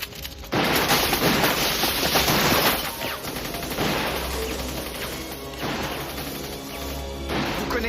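AK-47 gunfire, a loud dense fusillade of rapid shots and crashing impacts as windows are shot out, sustained for several seconds with no voices.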